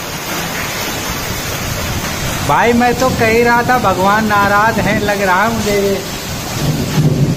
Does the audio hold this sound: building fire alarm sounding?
no